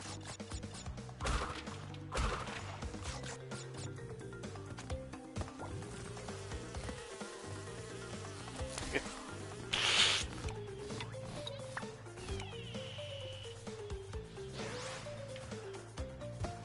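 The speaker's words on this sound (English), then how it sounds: "these bees seem deadly. Can we destroy the hive?" Buzzing bees in the Crash Bandicoot 2: Cortex Strikes Back remake (Crash N. Sane Trilogy, PS4), a steady insect drone mixed with game music, thumps and occasional crashes, no talk.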